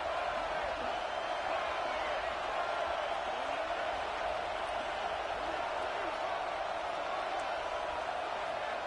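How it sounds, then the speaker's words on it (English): A roaring stadium crowd in the NCAA 26 college football video game builds on a defensive third down, a dense, steady wall of cheering noise that stays loud throughout. "Decibels rising as the crowd gets behind this defense on third down."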